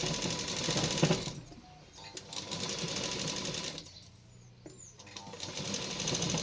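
A sewing machine stitches the top of a punjabi dress in steady bursts, its motor whirring loud and close, pausing briefly twice before running on.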